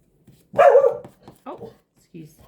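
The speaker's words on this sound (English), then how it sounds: "it's my cheeky dog. She can hear somebody barking." A pet dog barks indoors in a few short, fairly loud bursts spaced over a couple of seconds, with quiet room tone between them.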